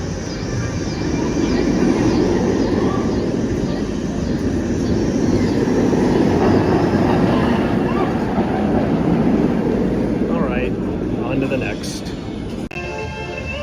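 A roller coaster train rumbles past at Six Flags Great America on a hot day, a loud, sustained roar that builds and then fades as it moves away, with voices nearby.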